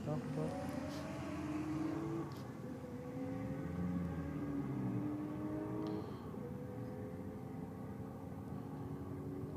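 A drag racing car making its run down the strip, engine droning steadily and rising in pitch, with a brief drop at a gear change before it climbs again, heard from a distance under a commentator talking.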